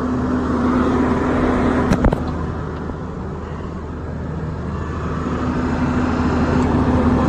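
An SBM Remax 1311/11-ED mobile impact crusher drones steadily with engine and hydraulic noise as its conveyor belt unfolds, with a brief knock near the start; no one speaks.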